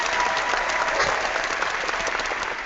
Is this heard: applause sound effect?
yes